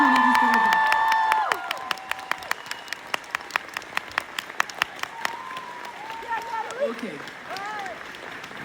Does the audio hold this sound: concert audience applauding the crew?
yes